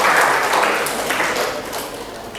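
An audience applauds for a dean at a seminar, a sustained wash of clapping that slowly fades, with no speech over it.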